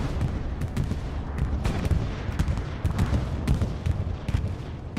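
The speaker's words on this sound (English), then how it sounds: "Bomber run does come out. Garrison does get destroyed there from the commander." A bombing run pounds a garrison on the Foy battlefield in Hell Let Loose, a dense, continuous roar of deep blasts and rumbling impacts mixed with rapid gunfire, steady and loud throughout with no talking.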